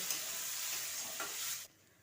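Mung dal with salt and turmeric sizzles in a hot pan while a spoon stirs it in a few scraping passes, steady and close, before the sound cuts off abruptly near the end.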